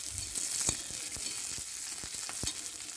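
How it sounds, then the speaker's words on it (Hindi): Ten to twelve garlic cloves frying in oil in a home kitchen for a bombil thecha recipe, a steady close sizzle broken by several sharp clinks and scrapes of stirring, with no talk. "अभी मैंने लहसुन की 10 से 12 कलियां यहां पर डाल दी है, और इसे भी अच्छी तरह से मैं तेल में भून लेने वाली हूँ।"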